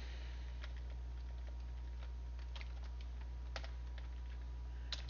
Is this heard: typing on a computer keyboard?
yes